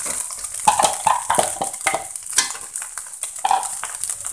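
Cabbage stir-fried with cooked spice paste in a pan, with loud repeated scraping and stirring strokes over a bright crackling sizzle, close up and without speech.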